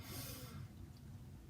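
A single audible breath drawn in through the nose during a guided meditation, soft and close, fading into quiet room tone after about half a second.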